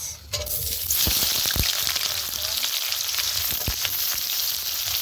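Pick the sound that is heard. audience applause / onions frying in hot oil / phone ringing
onions frying in hot oil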